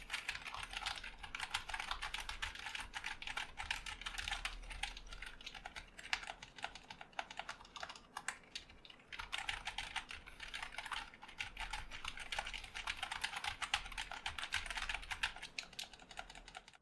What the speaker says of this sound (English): Here is a typing test for your hearing pleasure.